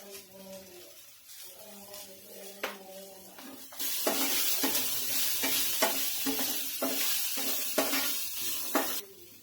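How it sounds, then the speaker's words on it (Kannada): Salt and turmeric being stirred into poha in a hot pan, a steady sizzle with repeated scraping strokes of the spoon, quiet at first and then louder and continuous. "ಅದನ್ನ ಚಂದಗ ಮಿಕ್ಸ್ ಮಾಡ್ಕೋಬೇಕ್ರಿ, ಉಪ್ಪು ಅರಿಶಿನ ಅದೆಲ್ಲ."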